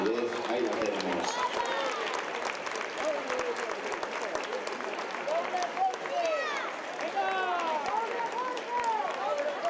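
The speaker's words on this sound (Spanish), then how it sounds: "Vamos a aplaudir" An audience claps steadily through a Spanish equestrian show, a broad wash of applause under someone speaking over a loudspeaker with music-like tonal sweeps, at moderate distance.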